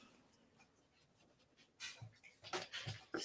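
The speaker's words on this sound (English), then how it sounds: "Silly dog." A dog indoors whimpers softly and pants in short, uneven bursts, close by but quiet, growing a little louder toward the end.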